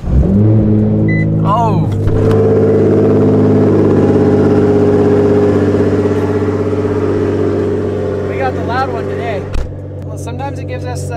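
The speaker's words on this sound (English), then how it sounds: "So we're gonna fire this unit up. See what kind of a cold start we get today." Car engine cold start, firing up and settling into a loud, high idle with a few blips of revving, close by, with brief speech over it.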